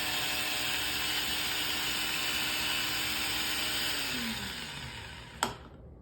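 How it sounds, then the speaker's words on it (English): A Goat Story Arco coffee grinder grinding coffee beans, a steady loud whirring buzz that winds down in pitch near the end, followed by a single sharp click. "And the grinding doesn't sound different when it's done."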